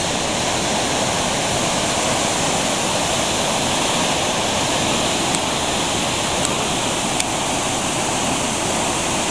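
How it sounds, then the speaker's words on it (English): The Falls of Clyde waterfall at New Lanark roars in a dense, unbroken rush of water crashing onto rocks, loud and constant throughout. "The water hitting off the sides."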